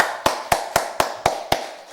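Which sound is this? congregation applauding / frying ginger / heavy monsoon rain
congregation applauding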